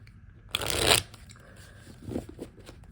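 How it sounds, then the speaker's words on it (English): A short, crisp riffle of tarot cards being shuffled close by, followed by quieter handling and a few soft taps. "I'm going to go ahead and shuffle just a couple more times here"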